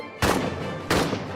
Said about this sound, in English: The thunder of the cannons comes from our side, Herr Officer.